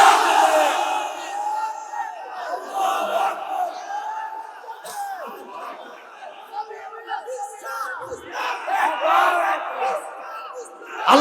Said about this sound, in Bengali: আল্লাহকেও জানায়া দাও একটা তাকবীর ধ্বনির মাধ্যমে